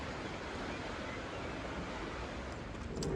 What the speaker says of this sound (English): It's lovely hearing the water in the morning with the birds singing.